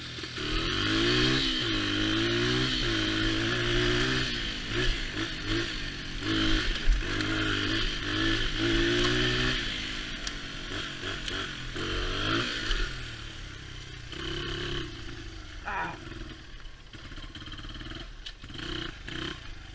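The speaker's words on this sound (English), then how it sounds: "I wanna see if this thing will idle." A Honda XR motorcycle engine runs close and loud, its revs rising and falling unevenly at first and then settling into a rougher, steadier idle rumble, with no speech.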